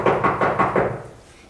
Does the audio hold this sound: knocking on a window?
yes